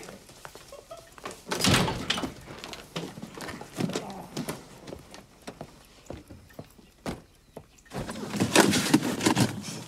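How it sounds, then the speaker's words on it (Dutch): Car doors thunk shut in short heavy bursts, one at a time, among rustling movement and shuffling close by, with no one speaking. "de deuren sluiten"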